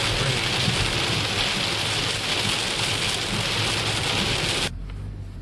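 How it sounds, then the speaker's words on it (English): Heavy rain drums steadily and densely on a vehicle travelling Route 66 along I-44 during a thunderstorm, then cuts off abruptly near the end, leaving a low rumble. "Thunder and lightning"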